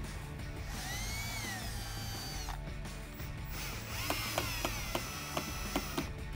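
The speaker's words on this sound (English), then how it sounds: "So now we're taking that same 1/8-inch drill bit to drill our holes underneath." A power drill with a 1/8-inch bit whirs in bursts while drilling holes under a Camaro for rocker panels, its pitch rising and falling, with sharp clicks toward the end.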